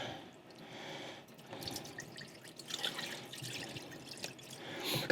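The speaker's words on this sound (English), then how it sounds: "So we're just gonna rinse the salt pork." Salt pork rinsed under a running kitchen tap, a soft steady splashing and trickling of water over the meat, close but quiet and unbroken for the whole stretch.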